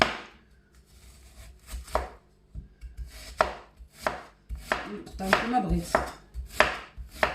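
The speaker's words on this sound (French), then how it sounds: "Donc je prends mes oignons. Donc en rondelles" A knife chops white onions into rings on a board for a Moroccan tajine, with a series of sharp, close strikes in an uneven rhythm and a brief voice in the middle.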